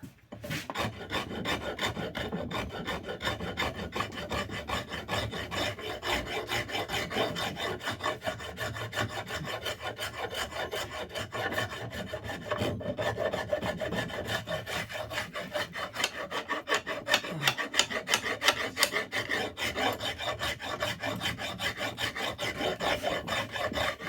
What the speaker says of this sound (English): Take a file card to that.